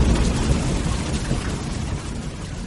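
Storm thunder rolls as a deep, continuous rumble for an audio drama, loud and heavy throughout, with a rain-like hiss above it and no voices.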